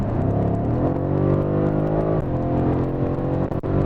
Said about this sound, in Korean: 배기음도 확실히 커지는 게 있어요 어, 아주 잠깐만 한번 좀 밟아 볼게요